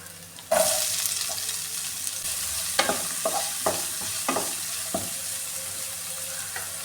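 Onions and small shallots dropped into hot oil for a coconut chicken curry, a sudden burst of sizzling that settles into a steady fry, punctuated by several distinct scraping stirs of a spoon, with no talking.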